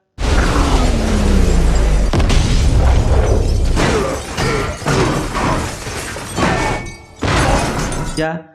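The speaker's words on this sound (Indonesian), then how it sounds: "ledakan besar pun terjadi" A loud, sustained roaring blast with crashing debris, rumbling continuously for several seconds before fading, with a sharp burst near the end.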